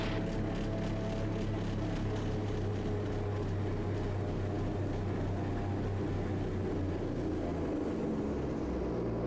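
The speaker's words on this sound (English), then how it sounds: "This is going to warm up the engine," Engine on the Raptor prototype warming up, a steady low droning hum with a constant tonal rumble, continuous and fairly near, no talk.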